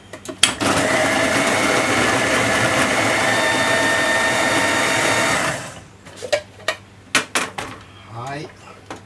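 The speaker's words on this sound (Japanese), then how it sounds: "ミキサーにかけます。" A blender whirs loudly and steadily for several seconds blending peeled tomatoes, then cuts off, followed by scattered clinks and knocks of kitchenware.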